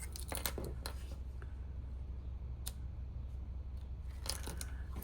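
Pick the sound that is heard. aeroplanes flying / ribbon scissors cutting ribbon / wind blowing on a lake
ribbon scissors cutting ribbon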